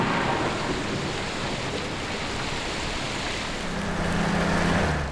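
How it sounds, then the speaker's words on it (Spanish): Steady autumn rain pours over open country, with low rolling thunder rumbling beneath the dense hiss throughout, no voices present. "La lluvia de otoño convirtió el campo de batalla en un barrizal."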